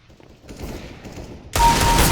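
Burst of automatic gunfire from the video game CS:GO, starting abruptly after quieter game background and staying loud and sustained to the end.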